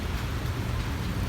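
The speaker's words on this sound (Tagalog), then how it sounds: "So, unang araw ngayon ng pag-ulan." Light rain falls outdoors in Kuwait, a steady soft hiss with low rumbling background noise throughout.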